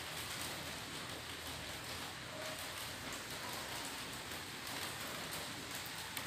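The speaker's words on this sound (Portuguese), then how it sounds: "barulhinho da chuva, pessoal, ó" Heavy rain falls outside an apartment, a dense, steady hiss of drops on surfaces that stays even throughout with no speech over it.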